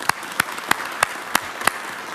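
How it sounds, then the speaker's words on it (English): Applause at a city council meeting: a broad, moderately loud wash of clapping from the room, with a few crisp, louder individual claps standing out at a steady rhythm throughout. "I think we probably need to give them a round of applause"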